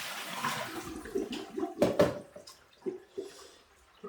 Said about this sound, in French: faire couler, histoire de rincer tout le charbon actif qui va colorer l'eau